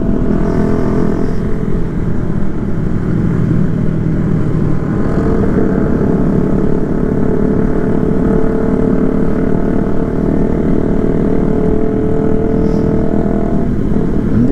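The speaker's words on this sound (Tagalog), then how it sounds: "motor nila parang malakas talaga" Loud motorcycles ride by during a joy ride, their engines making a steady, dense roar that fills the whole stretch without letting up.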